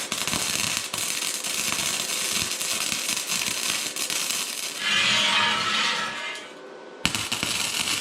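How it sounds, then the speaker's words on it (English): Arc welding on cross beams of a steel solar panel frame gives a continuous close crackling hiss for several seconds, briefly falling quieter before a sharp restart. "Square it up and then weld some cross beams."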